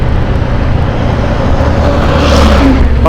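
A motor tricycle engine rumbles close and loud on a provincial road toward Catanauan, Quezon, steady and rising slightly as the vehicle is overtaken, mixed with road and wind noise.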